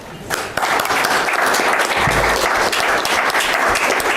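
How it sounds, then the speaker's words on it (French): A quiz-game crowd applauds the players, sustained, fairly loud clapping that swells after a brief quieter start and carries on evenly for several seconds. "je pense bien qu'on va vous applaudir tout de suite"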